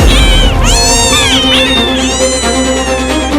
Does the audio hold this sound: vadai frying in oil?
no